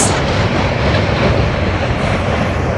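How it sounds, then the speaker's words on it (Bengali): Chitra Express intercity train rushing past near Hardinge Bridge, a loud, dense, continuous roar of wheels and carriages filling the whole moment at close range. "আন্তনগর চিত্রা এক্সপ্রেস এই মুহূর্তে চলে গেল"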